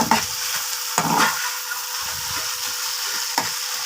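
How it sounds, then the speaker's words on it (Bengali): Fish milt curry with salt stirred in a pan, a spatula scraping and knocking in several strokes over a steady sizzle, close and clear. "দিয়ে আবার ভালোভাবে নেড়ে চেড়ে দিয়ে দেব"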